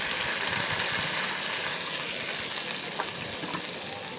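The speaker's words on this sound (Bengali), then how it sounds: "এখন আমি ডালটাকে বাগার দেব, ফোড়ন বলে" Lentils tipped into hot oil with already-fried onion and garlic for a Bangladeshi dal tempering, giving a loud, steady, crackling sizzle that fills the whole stretch with no voices.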